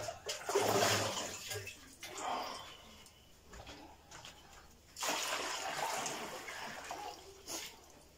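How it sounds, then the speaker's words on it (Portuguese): Water poured into a container during kitchen prep of frozen food, a soft running splash in two long spells separated by a quieter pause, fairly faint and close. "Vamos continuar a meter agora a água ali."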